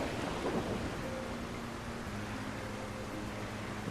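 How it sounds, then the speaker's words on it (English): Thunderstorm in a winter biome of a survival video game, a quiet, steady wash of rain with low rumbling thunder that swells early and then settles into a constant hiss. "either way, it's making sound when it storms"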